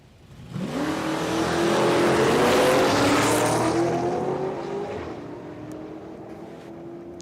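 A utility ute on radial tyres launches off the line in Australian 1/8-mile drag racing, its engine roaring loud and close, climbing steadily in pitch for several seconds before easing off as it pulls away.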